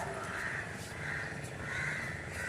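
A crow caws repeatedly at a steady pace in the background during a family day out in Velankanni, with no talk.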